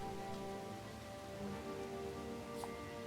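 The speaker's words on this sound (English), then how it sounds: "Apparently it's a rainy day." Steady, faint rain patters on surfaces in a rainy scene in the video game Endling, a soft continuous hiss with a brief higher sound near the end.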